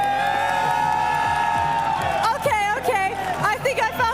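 In an eFootball video game match, a stadium crowd cheers and whoops, a steady roar of supporters' chants and babble rising toward the end over sustained music-like tones.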